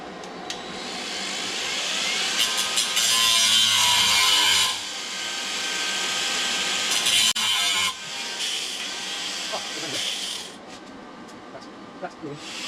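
An angle grinder cuts through tack welds on an exhaust pipe with a loud, sustained high-pitched whine and metallic grinding, changing pitch as the load shifts, then easing down while a voice speaks faintly underneath.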